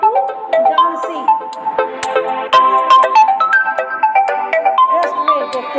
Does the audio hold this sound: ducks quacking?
no